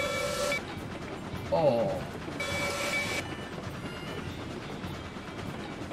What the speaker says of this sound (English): What a pretty looking locomotive that is.